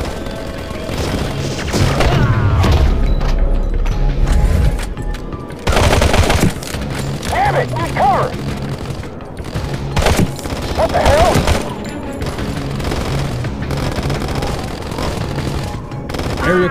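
Automatic gunfire from Modern Combat 3: Fallen Nation, loud and sustained bursts of rapid shots mixed with booms and impacts, and brief talk in between.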